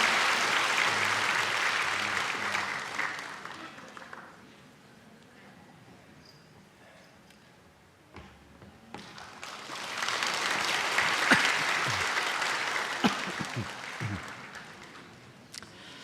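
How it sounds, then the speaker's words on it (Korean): A church congregation at a Sunday service claps to bless a child, a full round of applause that fades to a quiet pause with small noises and then returns for a second swell of clapping. "우리 박수로 이 아이를 축복합니다"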